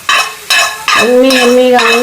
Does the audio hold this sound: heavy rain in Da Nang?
no